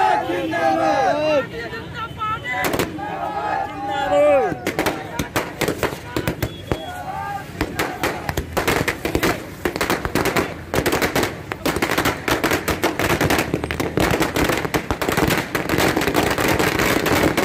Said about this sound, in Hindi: इन सब ने इकट्ठे होकर आतिशबाजी करी, आतिशबाजी करके जयकारा भी लगाए